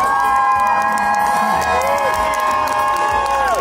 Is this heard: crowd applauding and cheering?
yes